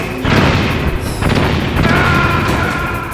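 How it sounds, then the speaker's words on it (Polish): A Stinger missile blast in the video game Metal Gear Solid: a loud, sustained booming explosion with rumbling low end and crackling debris lasting the whole moment, with no talk over it. "On strzelił jeszcze ze Stingerów. W moją stronę."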